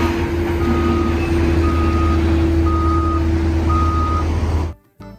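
Reversing beeps from a toy sand truck, four evenly spaced electronic beeps over a loud steady hum, close, cutting off abruptly near the end.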